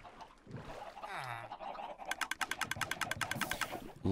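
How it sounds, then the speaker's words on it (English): A quick run of short, evenly spaced clucks from Minecraft chickens, preceded by a low warbling sound. "Hi, chickens, I hear you."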